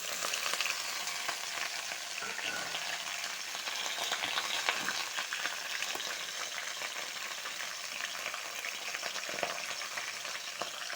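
Ash gourd shoots tipped into hot oil with dried red chillies and a bay leaf fry in a pan, a steady close sizzle with occasional stirring crackles for about eleven seconds.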